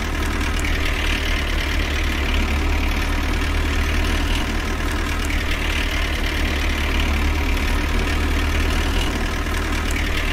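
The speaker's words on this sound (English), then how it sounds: "this tractor has been the general work tractor until now." A farm tractor engine, the general work tractor on a farm, idles steadily and loudly throughout, with an even low rumble and no change in pace or load.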